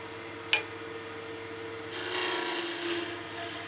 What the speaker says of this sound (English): So that was a nice gentle peeling cut, nice, smooth and uniform, not being too aggressive